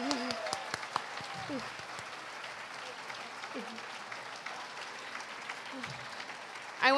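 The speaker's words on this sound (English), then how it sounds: "give her a round of applause" Audience applause welcoming autism spokesperson Dr. Temple Grandin at a ticketed talk, a steady wash of clapping running the whole stretch with a voice speaking over the start and a brief louder burst at the end.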